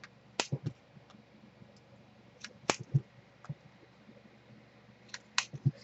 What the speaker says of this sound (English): So let me just cut a few of them.